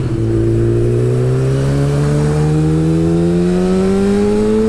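Motorcycle fitted with a Healtech quickshifter accelerating hard, its loud, close engine note climbing steadily in pitch through a continuous run, with no talk over it.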